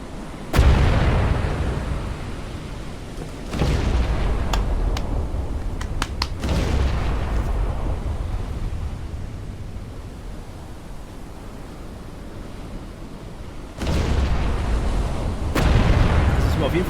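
Naval gunfire from the battleship Scharnhorst in the video game Battleship Command: heavy booming salvos with long rumbling tails, several big blasts spaced seconds apart over continuous engine and sea noise.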